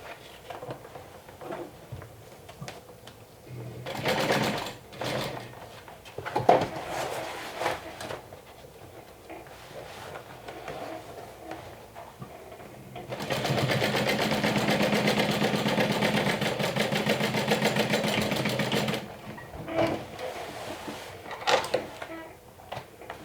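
A sewing machine stitches side panels for a garment in a home sewing session, its motor racing in one long steady burst of about six seconds under a heavy pedal, with shorter stitching bursts and a voice talking around it.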